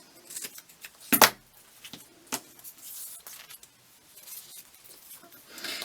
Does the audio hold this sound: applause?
no